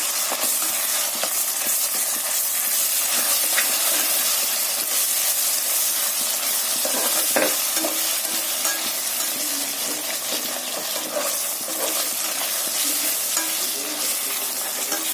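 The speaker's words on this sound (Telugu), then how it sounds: "2 spoons onion, 2 spoons ginger garlic paste వేసి ఫ్రై చేసి" Onion and ginger-garlic paste frying in a pan for chicken biryani, a loud continuous sizzle and hiss heard up close, with occasional faint scrapes and no talking.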